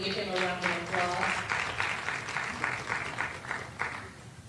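A room of people applauds a board member, the clapping steady and moderately loud throughout, while a voice speaks briefly over the start before the applause continues alone and tapers slightly.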